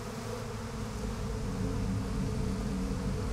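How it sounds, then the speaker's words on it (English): Buzzing bees in the Psychonauts 2 video game, a steady droning hum that holds close and continuous throughout, rising slightly in loudness toward the end, with no talk over it. "Want me to kill those bees?"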